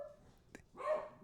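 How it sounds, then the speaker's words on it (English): Pet dog giving a single short bark in a quiet room, faint and somewhat distant, with no talking. "that's my dog."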